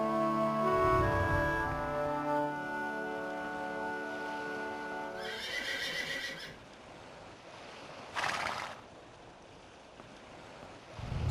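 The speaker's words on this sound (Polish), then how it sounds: "Słyszę jedynie ciebie chodzącego tam i z powrotem. To Altivo. Chodzi po pokładzie. Koń bojowy Corteza." Cortez's war horse whinnies loudly in a long, harmonic neigh aboard a ship in the El Dorado video game, followed by shorter snorts and shuffling hoof sounds against a low, steady ship and water ambience.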